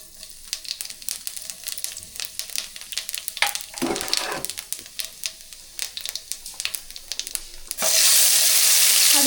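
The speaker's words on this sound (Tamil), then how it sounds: "சட்டி காஞ்சிருச்சு எண்ணெய் ஊற்றலாம் எண்ணெய் தேவையான அளவு ஊற்றிக்கலாம் பெரிய சோம்பு போட்டுக்கலாம்" Oil and fennel seeds sizzle and spit in a hot pan while prawn gravy is started, a steady crackling fry broken by clinks and stirring, then swelling into a loud, dense hiss near the end.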